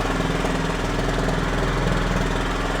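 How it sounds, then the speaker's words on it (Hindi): A Honda CB350 RS motorcycle in ideal condition idles just after starting, its engine and exhaust giving a steady, loud, close thumping chug with an even rapid pulse throughout and no talking. "ये लो, एक ही बार में स्टार्ट हो गई। आइडियल कंडीशन का इंजन साउंड सुनो, एग्जॉस्ट नोट सुनो जरा।"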